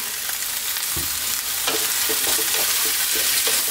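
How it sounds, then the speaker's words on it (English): Chickpeas frying in a pan over high heat for chana masala, with a steady sizzle and repeated scraping strokes of constant stirring, close and fairly loud, no voices. "just give this another 2 to 3 minutes on this high heat, stirring pretty much all the time"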